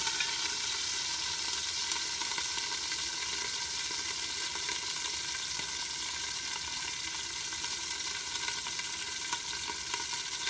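Beef pieces browning in a hot pan for a stew give off a steady, close sizzle that holds dense and even for the whole stretch, with no talking over it.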